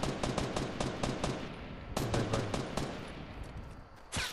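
Rapid automatic gunfire in a video game, fired at a building in bursts of quick evenly spaced shots that pause and then resume, loud and close with no talk over it.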